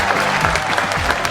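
Loud, steady applause from a live audience welcoming a stand-up comedian at a comedy show, dense clapping filling the whole stretch with a faint crowd murmur.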